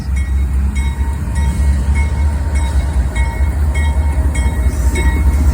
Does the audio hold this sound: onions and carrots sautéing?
no